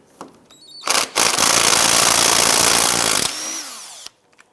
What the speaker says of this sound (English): Use an 18mm socket, go ahead and remove that nut.